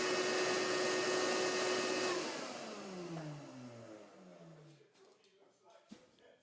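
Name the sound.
cutting glued-up wood pieces in half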